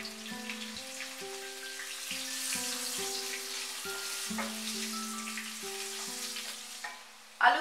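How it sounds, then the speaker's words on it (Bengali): Halved potatoes fry with salt and turmeric, a soft, constant sizzle and crackle heard close but quietly beneath sustained background music tones, ending with a brief louder clatter. "আলুগুলো উল্টে পাল্টে ভালো করে ভেজে নিয়ে তুলে নিলাম"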